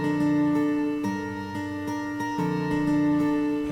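A synthesized guitar part plays on the O-Generator app, with sustained tonal notes changing in steady, even steps, alone and without talk.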